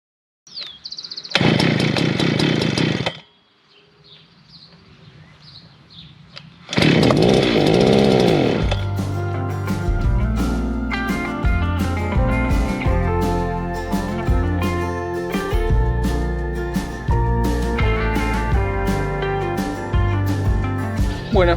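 A grass-cutting machine's small engine bursts into loud sputtering cranks twice with a lull between, then catches and runs with a steady, rough, buzzing idle that continues to the end.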